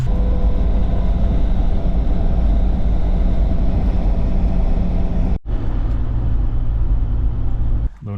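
A right-hand drive car's engine runs steadily with a coarse, tractor-like rumble, loud and continuous, with brief dropouts near the end.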